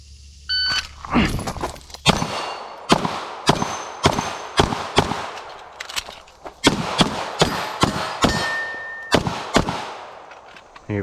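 Pistol gunshots ringing off steel targets during a timed shooting drill, about a dozen sharp, loud cracks fired in quick irregular bursts, each with a short metallic echo.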